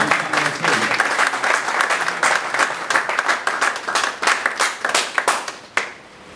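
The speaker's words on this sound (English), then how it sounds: "I want, ladies and gentlemen, to give a big applause for Mr. Patrick." A conference audience greets a speaker coming on stage with loud, sustained applause, many hands clapping briskly and close, thinning into scattered claps before stopping abruptly.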